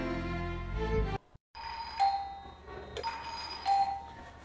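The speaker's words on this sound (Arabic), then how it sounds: "جرس الباب اللي هي دي؟" A two-tone electronic doorbell rings indoors, chiming several times in clear ding-dong pairs after a brief silence, with no voices.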